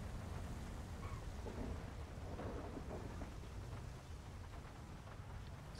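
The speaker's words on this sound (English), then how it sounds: "we got a severe thunderstorm rolling through as we're tracking down a bolo vehicle" Severe thunderstorm weather in the video game GTA5, a steady wash of heavy rain with low rumbling thunder underneath, broadband and continuous throughout, fairly distant and moderately quiet with no talking.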